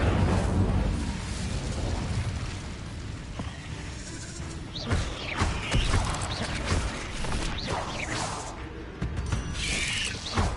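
The Incendio fire spell cast in Hogwarts Legacy: loud roaring bursts of flame with crackling pops and crashes amid dense combat noise, several sharp blasts in quick succession.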